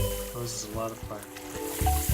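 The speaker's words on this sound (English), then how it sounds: "Oh, this is a lot of fire." Fire in the iOS puzzle game Sprinkle Islands crackles and sizzles steadily in short fizzing bursts, layered over the game's music.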